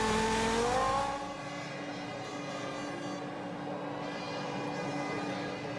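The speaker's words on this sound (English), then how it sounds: "Looked like a car just diving down the pit lane to me." A Formula One car in the 2004 Hungarian Grand Prix pit lane, its high engine note falling in pitch early on, then settling into a steady distant mechanical drone with broadband track noise.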